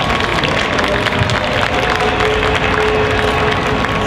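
A large crowd at an outdoor FusionFest 2021 cultural music event in Orlando applauds the organizer and his team, a loud, dense, continuous wash of clapping with no talk.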